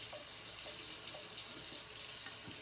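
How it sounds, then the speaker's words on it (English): Kitchen tap water running steadily into a sink while cooked pasta is rinsed, a continuous loud splashing rush with faint clinks underneath and no talk. "so while I'm rinsing the pasta"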